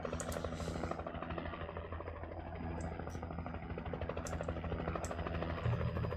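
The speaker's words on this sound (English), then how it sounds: "Oh, that's a chopper." Helicopter in the video game Alan Wake, a low steady rotor thump and engine drone holding at moderate distance under faint game effects, with some brief sharper sounds on top.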